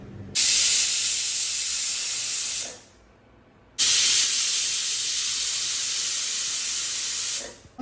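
Two long bursts of loud, hissing steam from a pressure cooker whistle, each lasting a few seconds, separated by a short pause, as ripe nendran plantain cooks in water for pulissery.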